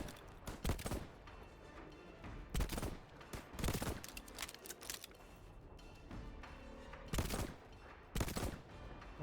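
Gunfire in the video game Void Train: repeated bursts of sharp, loud shots in irregular clusters, some rapid like automatic fire, separated by quieter stretches of background ambience.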